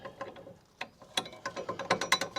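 A ratchet undoes the nut on a drop link bolt of a Jaguar XK8 V8 GT, giving close, crisp clicking pawl strokes in quickening bursts, with a brief pause early on.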